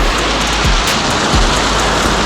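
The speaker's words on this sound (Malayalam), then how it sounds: "ഇവിടെ സൈഡിലെല്ലാം നല്ല രീതിയിലുള്ള വെള്ളം ഇങ്ങനെ വീണുകൊണ്ടിരിക്കുകയാണ്" Rainwater pouring steadily down the sides of a house in heavy rain, a dense continuous splashing wash, close and loud with no voices.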